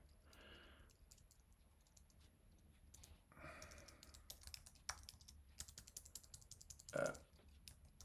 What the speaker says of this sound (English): sorry, I can't type very well real time.